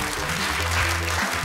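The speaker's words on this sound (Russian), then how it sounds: "Аплодисменты девушкам, они очень" Brief, dense applause from a studio audience on a running game show, a short steady burst of many hands clapping.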